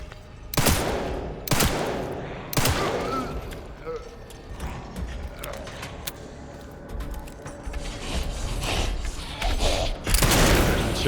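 Gunshots in the video game Resident Evil Requiem, several sharp loud bangs spaced through the clip over game rumble and effects, with a player talking in French throughout.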